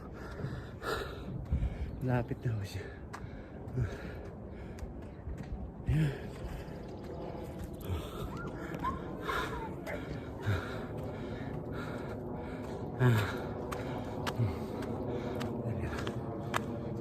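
A person panting heavily while out on a Sunday walk, with audible gasping breaths and footsteps, interrupted by their own speech.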